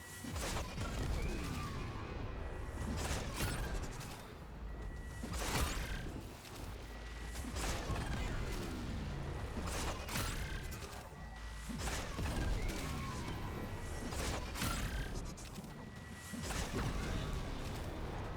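Endless chained explosions set off by the Xoris Granum Void glaive in The First Descendant, a dense run of sharp bursts and crashing blasts, steady and loud throughout, with little talk.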